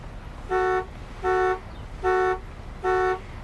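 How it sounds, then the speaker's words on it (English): A car horn honks four times in an even rhythm, each toot about a third of a second long, clear and moderately close against a quiet background. "I wonder what he's honking about."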